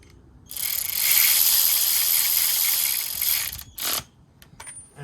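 A ratchet wrench tightens engine guard bolts on a Triumph motorcycle, giving about three seconds of loud, close, continuous ratcheting followed by a few short clicking bursts.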